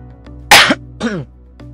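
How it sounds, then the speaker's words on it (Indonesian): A single sharp cough up close, followed by a shorter throaty second burst, in an otherwise quiet room. "Aduh, batuk ini"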